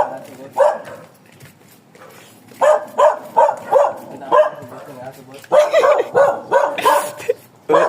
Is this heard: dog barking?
yes